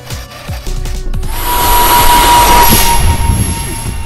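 Twin 40mm electric ducted fans on a 3D-printed Macross YF-19 RC model jet with swivel vectoring nozzles whine up to a loud, steady high-pitched roar after a brief lower-level start, no talking.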